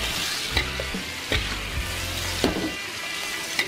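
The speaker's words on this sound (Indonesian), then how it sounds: "Masak hingga wortelnya agak masak ya" Sliced carrots stir-fried in a pan for a vegetable rice-noodle dish give off a steady close sizzle, broken by a few sharp scrapes and clatters of a utensil moving them around.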